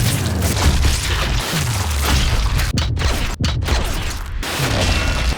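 Flak cannons firing in a Sniper Elite shooter game, a dense run of heavy booms and crashing blasts that pound almost continuously, with a few brief near-silent gaps.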